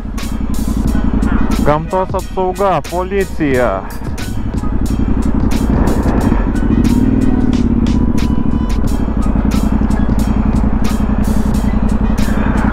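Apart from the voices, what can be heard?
motorcycle riding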